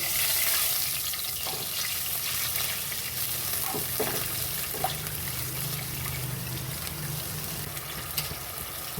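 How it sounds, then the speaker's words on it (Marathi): A bowl of water hisses and sizzles as it hits a hot pan with fried ginger and garlic, settling into a steady bubbling sizzle with a few clinks of a utensil. "आता त्याच्यामध्ये मी परत 1 वाटी पाणी घालते आहे."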